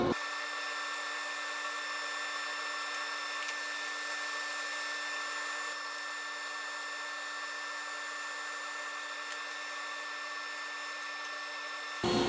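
A belt grinder runs against a soft felt platen, a constant close whirring hum with a smooth, even grinding hiss that holds steady for about twelve seconds with no talking.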